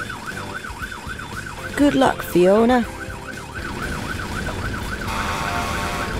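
Cartoon fire engine siren wailing in a steady rising-and-falling pattern throughout, loud and close, with a voice and another brief voice speaking over it midway.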